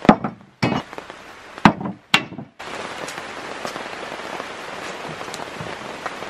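Rain comes down outdoors at a tree-planting site. A few sharp knocks come first, then a steady, close patter of drops on surfaces continues to the end.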